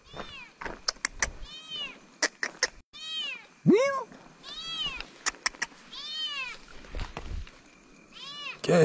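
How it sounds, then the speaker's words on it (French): A small cat meows again and again outdoors at night near the scene of a road accident, the calls close and varied in pitch, with a voice and brief clicks between them. "Ah, on a un petit chat ici."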